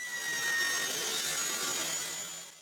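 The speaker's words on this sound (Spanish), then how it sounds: "Pongo el hueco encima de la tira de aluminio, pego un lado del hueco a la tira de aluminio y corto." A saw cuts through wood laid over an aluminum strip used as a carpentry guide, giving a steady, loud, hissing rasp that holds for a couple of seconds and then tapers off at the end.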